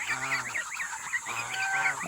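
Ducklings give a few short honking, nasal calls in bursts, close by and fairly faint, with a steady background hiss.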